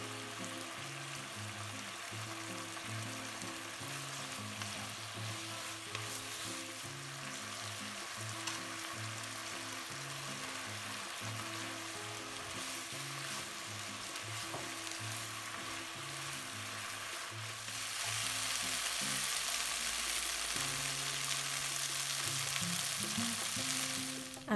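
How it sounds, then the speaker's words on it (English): Oyster sauce bubbles in a pan with spring onions and fish for a fish and tofu dish, giving a steady close sizzle and bubbling that grows louder and brighter toward the end. "When the sauce starts to boil, add in the spring onions and then the fish."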